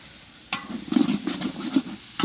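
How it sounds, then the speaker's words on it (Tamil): Masala for chicken biryani is stirred in a pan, giving scraping spoon strokes over a soft sizzle in a few short bursts, close and moderately loud. "எல்லாரோட மசாலாவும் பச்சை வாசனை போற அளவுக்கு நல்லா வதக்குங்க"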